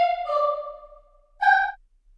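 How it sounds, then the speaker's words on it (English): A vocal sample pitched up 400 cents plays as two short, bright, airy tones with a gap between them, sitting clean and upfront over silence. "I pitched the Vox up by 400 cents"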